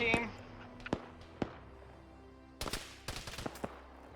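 Sparse gunfire in the military game Arma 3 on the Chernarus map: a few isolated sharp shots early, then a denser cluster of rapid cracks toward the end, at moderate distance over a low ambient bed.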